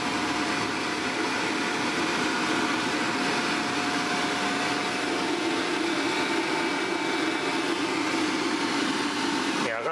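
A single-phase electric motor driven by a variable frequency drive runs steadily, a continuous broadband whir with a faint electrical whine, loud and close, with no pauses across the whole stretch.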